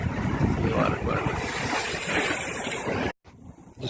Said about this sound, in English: And the biggest waves ever.